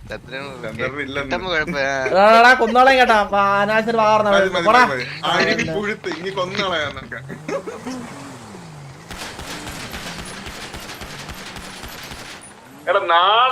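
Lively talking, then a rapid crackle of video game gunfire, dense shots rattling for a few seconds before a voice cuts back in.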